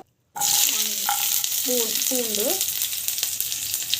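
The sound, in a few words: garlic, coconut and dried chillies frying in oil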